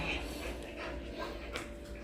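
Dogs pant rapidly and steadily nearby in hot weather, a soft breathy rhythm over faint background noise.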